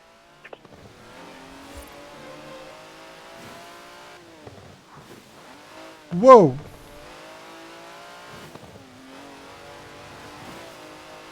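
A 90-year-old vintage racing car in Forza Horizon 4 drones steadily with engine harmonics, then one sharp loud squeal-like burst of revving midway, while a voice exclaims briefly.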